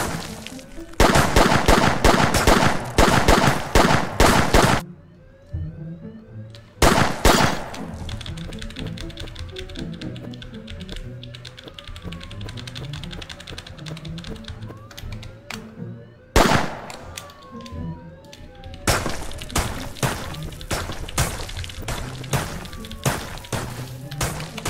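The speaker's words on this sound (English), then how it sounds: "They're still shooting me" Enemy gunfire from a jewelry store heist in the game Sneak Thief rattles out in loud, rapid bursts, with short gaps and quieter mechanical clicks and thuds between volleys.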